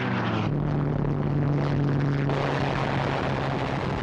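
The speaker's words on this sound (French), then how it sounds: "Les avions américains présents sur la base viennent à leur rencontre." American aircraft, including old Brewster Buffalo fighters, flying over Midway island, a continuous loud droning engine hum with a steady low tone and broadband roar, with no voices.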